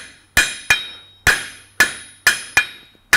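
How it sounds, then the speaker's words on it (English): A blacksmith's hammer striking hot steel on the outside of an anvil while forging a point, seven sharp ringing blows in a steady rhythm, each clang decaying quickly, loud and close with no talking. "we're going on the outside of our anvil and just forging a little point"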